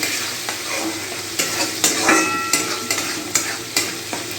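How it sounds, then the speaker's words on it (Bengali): Fish curry stirred in a sizzling pan, with a quick run of sharp scraping spoon strokes over a constant close frying hiss and no talking. "এই দেখো নাড়া হয়ে গেল"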